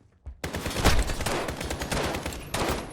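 A dense, loud fusillade of automatic gunfire from Call of Duty Modern Warfare erupts after a brief quiet moment and continues as a sustained, close barrage.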